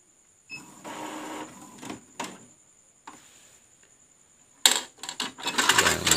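An Epson L3110 inkjet printer with a blinking indicator light is switched off, giving short mechanical whirs and clicks, then a burst of sharper clattering rattles at the end, close and fairly quiet.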